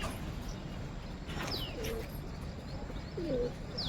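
Pigeons cooing softly in the distance, a couple of low murmuring coos with faint high chirps over steady background hiss.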